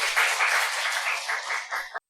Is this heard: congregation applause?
yes